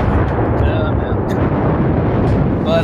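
Torpedo hits exploding against a warship in a naval battle video game, a continuous loud rumbling blast with dense low roar filling the whole stretch and a few faint higher crackles on top.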